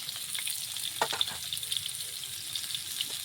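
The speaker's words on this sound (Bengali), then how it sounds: "আলু কাটা দিলাম, একসঙ্গে ভাজবো আলু কাটা।" Potato slices frying in mustard oil in a kadai with salt and turmeric give a steady, close sizzle with a few light stirring clicks and scrapes throughout, and no voices.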